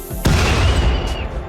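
A mechanoid power cell cluster explodes in a RimWorld battle: one sudden, loud boom with a sharp crack that rolls into a rumbling decay, alone without any voices.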